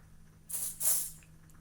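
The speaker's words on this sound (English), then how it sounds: "spraying it really close to the brush" Two short, close hisses of a spray product onto a makeup brush, the second a little longer, then quiet.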